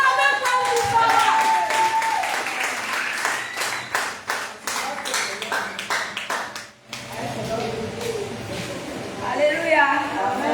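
A congregation applauds and claps for a father at a Sunday church service, loud and sustained, with several strong clap bursts and voices talking and cheering throughout.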